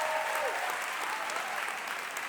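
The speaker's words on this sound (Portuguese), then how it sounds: "Aplauda-se, meu bem forte aí!" An audience at a youth movement gathering applauding loudly, a dense, sustained wash of clapping from many hands that stays strong throughout.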